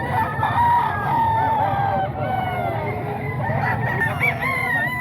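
Chickens and roosters at a busy Bocaue poultry market cluck and crow over one another in a steady, crowded din, with people talking close by.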